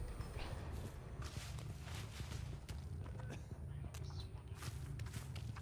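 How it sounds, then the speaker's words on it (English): Footsteps in the horror video game Dead by Daylight, quiet repeated steps and scuffs buried in a dense, noisy game background with a low rumbling bed throughout. "Oh, I heard footsteps."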